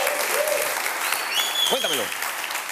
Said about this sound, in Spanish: Un aplauso para Led.